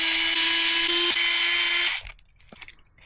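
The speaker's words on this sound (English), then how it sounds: "Remove these screws." Small electric screwdriver removing screws from a Kyosho RC car micro servo, a steady high whine for about two seconds, close and loud, then stopping, followed by faint clicks and handling sounds.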